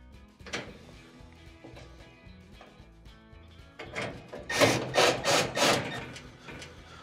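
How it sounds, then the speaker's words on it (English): Phillips head screws being driven back into a Frigidaire oven during an ignition harness repair: quiet scraping and handling, then a close run of four or five rhythmic rasping screwdriver turns. "Reinstall your Phillips head screws."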